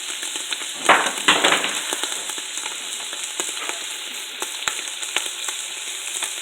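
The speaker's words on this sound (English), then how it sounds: "So it's just frying away over here." Indian beef curry sizzles and fries in a pan, a steady crackling hiss broken by a few louder bursts of spitting and stirring clatter near the start.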